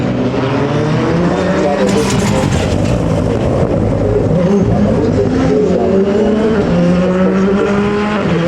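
A rally car drives hard along a stage: a loud, sustained engine roar climbs and shifts pitch through gear changes, with a commentator talking over it throughout.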